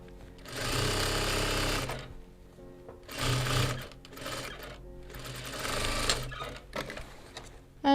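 A sewing machine stitches darts in a calico skirt, running in three loud close bursts of rapid mechanical whirring separated by short pauses.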